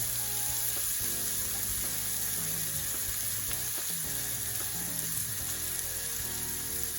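Food sautéing in butter and olive oil, a steady dense sizzle with faint crackles and occasional soft stir scrapes, close and continuous with no talk.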